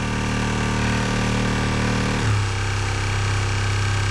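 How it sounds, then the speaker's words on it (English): A DIY electric outboard motor with a heavy vibration fault runs on a small boat, giving a loud, continuous droning hum with a rattling buzz. Its pitch drops partway through, then holds steady at the lower tone. "the motor's developed a massive vibration, so we're turning back"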